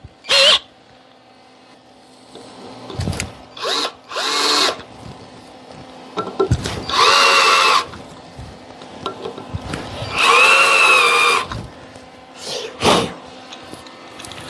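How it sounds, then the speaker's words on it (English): An early-1900s drill press cutting a chamfer on a drilled hole in metal, heard as several short loud whirring bursts separated by pauses and clunks, with two longer cuts in the middle. "Let's put a little chamfer on that."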